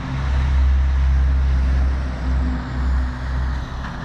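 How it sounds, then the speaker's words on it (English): A logging truck passes on a street in Port Chalmers, New Zealand, its loud, steady engine rumble swelling and easing slightly as it goes by, with no voices. "Logging truck going by."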